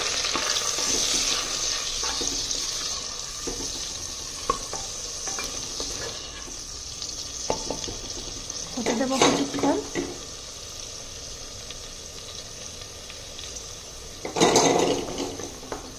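Green chili, ginger and tomato paste fry in a clay pot, giving a soft steady sizzle with occasional stirring scrapes and two louder bursts of spatter, while someone speaks briefly.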